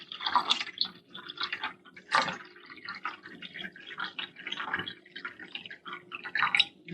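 Water is poured into the reservoir of a KitchenAid Nespresso machine up to the max line during descaling, a steady close splashing and trickling stream with uneven surges.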